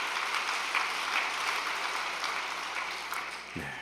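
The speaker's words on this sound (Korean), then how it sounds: "장부모님께 감사의 박수를 부탁드리겠습니다." An assembled audience at an overnight devotional gathering applauds in thanks, a steady broadband roar of many hands clapping together, holding even and fairly loud throughout.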